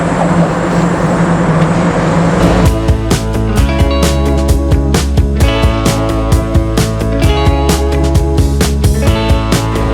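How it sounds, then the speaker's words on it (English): Cars driving over a bridge in Ottawa, Canada make a loud, dense, haunting drone. Rapid rhythmic clatters and thumps rise out of a constant roar, and there is no talk. "the cars going over that bridge actually make quite a haunting noise"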